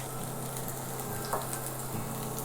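Chopped onion sizzles and fries in mustard oil in a pan, a close, steady crackling hiss with a faint stirring scrape partway through.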